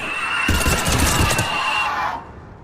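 Shrill, layered screeching from mutated Asari enemies in Mass Effect 3, a loud continuous wail lasting about two seconds over dense battle noise, then cutting off.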